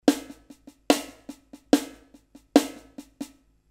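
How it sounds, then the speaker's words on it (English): A drum plays one bar of a paradiddle accent exercise, with four loud accented strokes evenly spaced and softer ghost strokes between them, played cleanly and alone. "So this is a paradiddle accent exercise."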